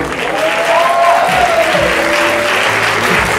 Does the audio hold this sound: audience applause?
yes